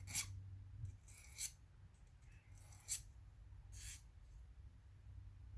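A hand file removes a burr from a part on a GM 2.4 Twin Cam engine. A few short, scratchy rasping strokes come at uneven intervals, quiet and close in an otherwise still room.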